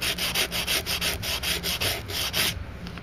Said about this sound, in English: This needs to be sanded down or steel wool